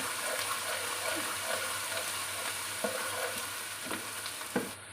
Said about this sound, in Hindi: अब हम इसमें डालेंगे लहसुन और अदरक। अब हमने इसे भी 1 मिनट के लिए फ्राई करना है।